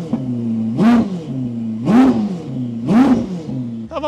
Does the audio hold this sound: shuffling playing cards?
no